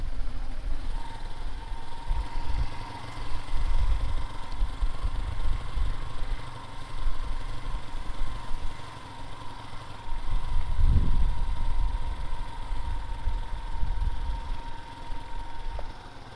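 A motorcycle engine idles steadily near a grotto outside La Paloma, Durazno, Uruguay, holding a continuous low rumble with a faint whine above it that swells briefly near the end.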